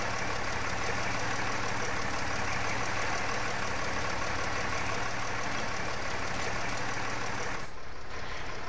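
An IMT 558 tractor idles in Farming Simulator 17, a steady, loud, unbroken diesel engine rumble with a slight knock, close up and alone, briefly changing near the end.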